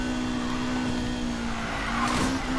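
A pink Lotus Elise drift car in a video game, tires squealing in a long steady skid over a constant engine drone, loud and continuous with a brief rise near the end.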